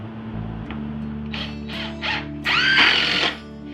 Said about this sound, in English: And I'm going to put 1 screw in.